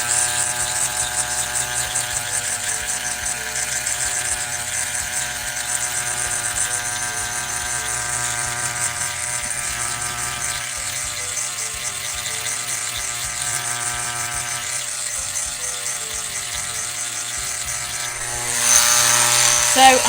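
An at-home microneedling pen running at 0.5 mm depth gives a steady, continuous electric whir held at the same speed, close and constant throughout, with a slightly louder burst near the end.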